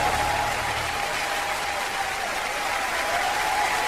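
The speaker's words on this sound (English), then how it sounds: "But everything gets a cheer here." Eurovision Song Contest audience in the 1996 Oslo hall cheering and applauding, a dense steady roar of clapping and crowd noise filling the whole stretch at full strength.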